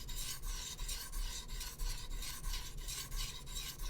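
Quiet, rhythmic scraping strokes of a Japanese boning knife being drawn back and forth across a wet whetstone, each pass a soft gritty rasp repeating roughly every half second.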